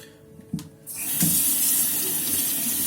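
Running tap water rinses a knife sharpening stone after a couple of faint knocks, then the water pours steadily and fairly loudly with no talking.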